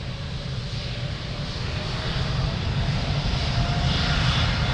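A Portugal heavy airliner takes off from runway 02 at Lisbon Airport, its engines producing a loud, steady broadband roar that holds constant and swells slightly throughout.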